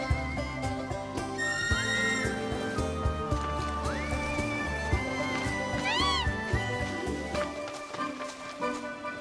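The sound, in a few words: whistle calling a chocobo in video game Final Fantasy VII Rebirth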